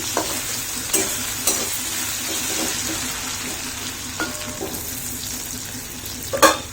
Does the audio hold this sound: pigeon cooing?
no